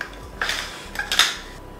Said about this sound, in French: On va mélanger tout ce qu'on a mis dans le plat jusqu'à présent.